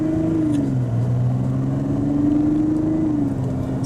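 2024 Mazda CX-90 SUV engine accelerating on a test drive, a low steady engine drone with pitch that rises and falls gently, heard from inside the cabin with no talk.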